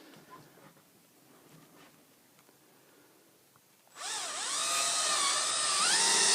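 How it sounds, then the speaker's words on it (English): Power driver sinking screws into a window frame during a window replacement, a loud rising whine that starts abruptly after quiet room noise and keeps climbing in pitch, no talk. "So I'm going to space my screws about every 12 to 14 inches."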